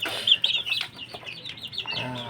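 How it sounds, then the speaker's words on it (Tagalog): A hen clucks and makes soft high calls close by, short chirpy notes repeating over a couple of seconds with faint background noise. "Isang inahin lang yan."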